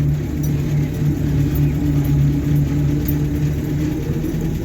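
A 1968 Land Rover Series IIa 88 driving in low range, with a steady engine rumble and constant transmission whine heard from inside the cab, with no talking.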